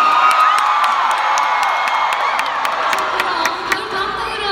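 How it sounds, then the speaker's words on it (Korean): Concert crowd at a K-pop show cheers and screams continuously, a loud, sustained roar of high voices and whoops with no break. "I hope you guys can hear your cheers"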